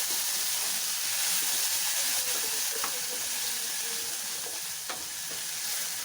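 A ginger-chili paste sizzling steadily in hot oil as it is mixed, a dense, even hiss with faint scrapes and taps from stirring, with no voices.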